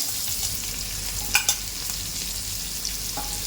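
Chopped onions frying in hot oil with spices give a steady close sizzle, broken by a few sharp stirring scrapes and clinks of a utensil against the pan.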